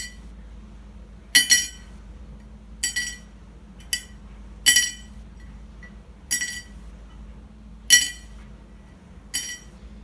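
A plastic acoustic-guitar saddle dropped onto a plate several times, producing short clicky clinks at irregular intervals over a low steady hum, duller and quicker to fade than bone.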